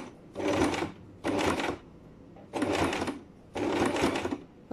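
A sewing machine stitches a sleeve placket in four bursts of rapid mechanical whirring, each about a second long, separated by brief pauses. The machine is close and loud.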